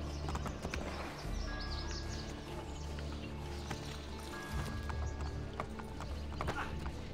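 Steady hoofbeats of a horse in the video game Assassin's Creed: Brotherhood clop along over a dense background of music and ambient noise.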